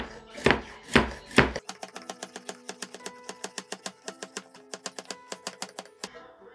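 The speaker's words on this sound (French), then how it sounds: "ça nous prend environ 400 g de carottes qu'on va couper en morceaux" Carrots being chopped into pieces on a board, three heavy knife strikes followed by a long run of quick, crisp, evenly spaced chops, close and clear with no talking.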